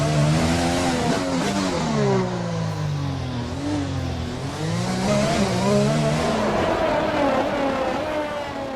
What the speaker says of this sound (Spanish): este coche tiene ese motor Honda con ese sonido tan característico